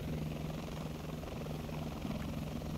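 Helicopter flying in a war video game, a steady close rotor drone with a strong low hum held evenly for about three seconds, loud and alone with no talk.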